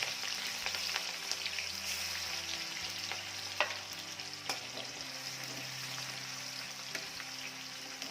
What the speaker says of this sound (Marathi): लसूण छान रंग बदलेपर्यंत परतून घ्यायचा आहे